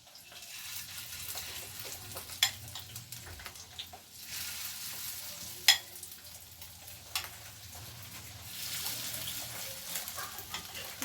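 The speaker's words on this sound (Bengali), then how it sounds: "এবারে আমি বড়াগুলো ছাড়বো" Fish roe fritters slipped into hot oil fry with a soft, steady crackle, broken by a few sharp pops and splashes as pieces drop in, fairly quiet and close.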